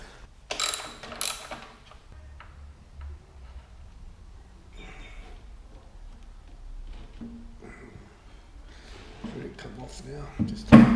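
A ratchet clicks in short bursts while loosening a bolt on a Triumph Street Triple motorcycle, close and quiet, with someone speaking between the bursts and metallic clatter near the end.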